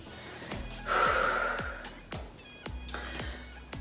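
Heavy, gasping breaths of someone winded during a no-equipment HIIT workout, one loud drawn-out gasp near the middle among quieter panting and a few low thuds.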